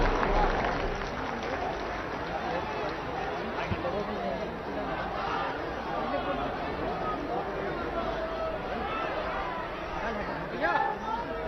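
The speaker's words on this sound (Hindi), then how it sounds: "आप सबकी जोरदार तालियों के बीच" Loud, sustained applause and crowd noise fill a large hall at a Prime Minister's public event for women's self-help groups in Uttar Pradesh, with babble of many voices running steadily throughout.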